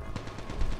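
PDW submachine gun fire in Call of Duty Mobile, a dense rapid burst of automatic shots with a steady rattling rhythm, loud and close, with no talk over it.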